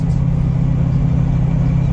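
Steady low drone of a turbocharged truck engine cruising under 15 to 20 psi of boost, heard from the cab as a constant loud rumble with no change in pitch.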